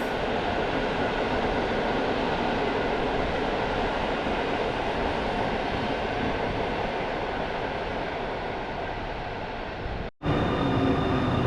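A very long, delayed passenger train rolls into a Polish railway station with a loud, continuous rumbling roar that barely changes over many seconds, broken by one brief dropout near the end.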